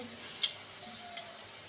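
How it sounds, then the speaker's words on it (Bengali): Cabbage ghonto frying in a pan with fish head and potatoes, a soft steady sizzle with a couple of brief stirring clinks, close and fairly quiet, no talking. "দিয়ে এখন বেশ লাল করে ভেজে নেব খুব তাড়াতাড়ি ভেজে"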